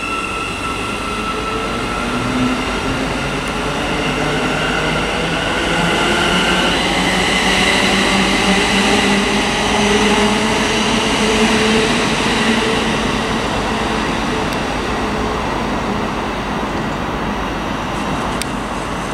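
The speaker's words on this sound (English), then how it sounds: "going out now is going to be the 1132 Thameslink service to Brighton" A Thameslink Class 700 electric train departs Stevenage station on the East Coast Main Line with a loud, steady rumble and rising motor whine tones, wheels on rails sounding close and continuous.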